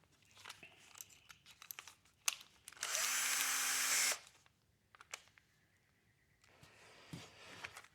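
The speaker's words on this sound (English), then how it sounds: "I reckon we'll drill it through there." A power drill bores through a bonsai strawberry guava trunk for thread grafting: one loud, steady whir of about a second, set among quiet handling clicks and rustles close by.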